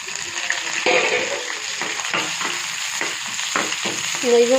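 Onion and curry leaves frying in a pan for Tamil-style coconut chutney, with a continuous close sizzle and scattered stirring scrapes and crackles throughout, no talking.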